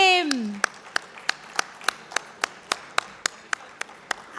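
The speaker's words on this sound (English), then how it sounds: "Can we have a big round of applause for him?" Clapping greets Balbir Singh Khalsa, executive director of Knight Frank, at a talk event: a slow, evenly spaced series of about fourteen crisp handclaps, following a brief voice at the start.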